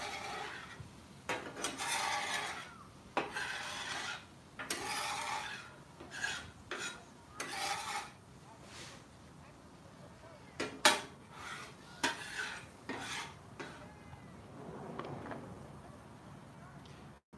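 Metal scraper grinding residue off a Blackstone flat top griddle, repeated harsh rasping strokes in irregular bursts, close and loud, with occasional clanks of metal on steel.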